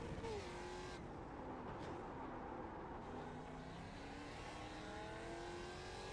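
A race car engine roars steadily in iRacing at Sebring, loud and continuous, its pitch climbing and dropping through revs and gear changes, with no talk over it.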